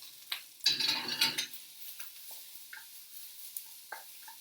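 A wooden utensil stirs rice toasting in a pan, making a burst of scraping and rustling followed by soft, scattered taps and light sizzle, close up and quiet.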